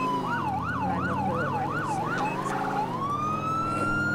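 A police car siren in a video game wails in a steady rising-and-falling cycle, then shifts to a rapid yelp and a long rising tone, loud and continuous over a low engine drone.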